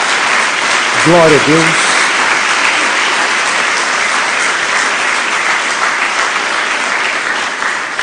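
A church congregation bursts into loud, sustained applause that fills the whole space, dense clapping continuing steadily while a voice briefly calls out over it near the start.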